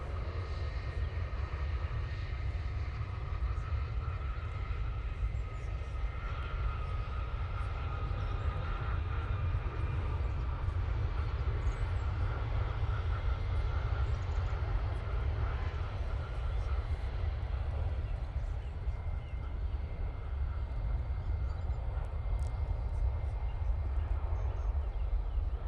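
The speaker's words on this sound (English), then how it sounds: "Ryanair 737 MAX 8, now on the roll" A Ryanair Boeing 737 MAX 8 jet on its takeoff roll at Manchester Airport sends out a sustained deep engine rumble with a faint whining tone above, moderately distant and steady.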